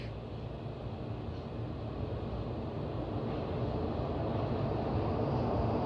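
A train rolls past close by, a steady loud low rumble that builds slightly and holds for the whole stretch with no voices over it.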